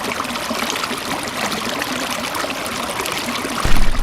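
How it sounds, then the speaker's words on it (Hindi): The Narmada river at Maheshwar flowing and murmuring, a steady close rush of water with a continuous hiss and no voices. "पुण्य सलीला मां नर्मदा का कलकल निनाद जहां दिव्यता की अनुभूति कराता है"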